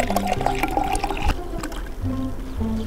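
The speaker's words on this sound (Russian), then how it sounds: "Наливаем." Flat Coca-Cola with no fizz left is poured into a glass, giving a steady close liquid gurgle and trickle over about three seconds, with no talking.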